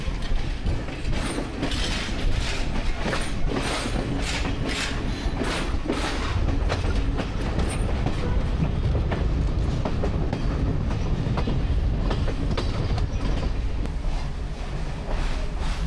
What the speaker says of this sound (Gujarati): તો મિત્રો ફાઇનલી આપણી ટ્રેન આવી ગઈ છે.